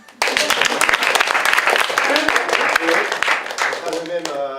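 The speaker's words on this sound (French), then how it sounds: "Et on peut applaudir Maxime." An audience applauds Maxime, a stage performer who has just acted out a dog's tricks, with dense, steady clapping lasting about four seconds before a voice begins talking.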